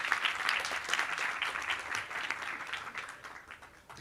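An audience applauds at a conference session, dense steady clapping from many hands that fades slightly toward the end, with no talk over it.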